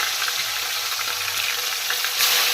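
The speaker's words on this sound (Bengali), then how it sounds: "কড়াতে তেল গরম করে এই কড়ার মধ্যে একের পর এক মাছ ছেড়ে দিচ্ছি। এই মাছগুলো লালচে লালচে করে ভেজে নিতে হবে।" Fish sizzling steadily as it fries in hot oil in a wok, a dense continuous hiss with small crackles and pops throughout, fairly close, with a slightly louder burst near the end.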